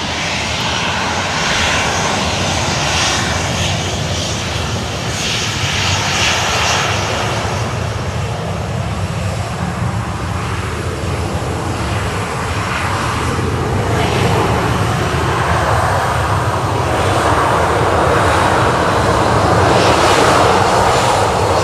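Boeing 737 jet engines at Sydney Airport, a sustained broad roar building louder toward the end, steady and continuous without voices.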